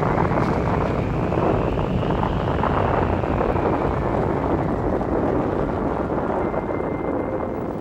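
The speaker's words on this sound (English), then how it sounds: "Engine ignition. We have liftoff from Dow Vallis." A spacecraft engine ignites and lifts off from Dao Vallis on Mars during a dust storm, a loud continuous roar with rushing, wind-like noise holding steady throughout.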